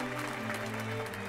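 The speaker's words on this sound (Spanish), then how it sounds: "Y en cuestión de segundos, los aplausos rompieron el aire." Applause crackles steadily at a wedding just after the bride throws the bouquet, faint and distant, with a low hum underneath.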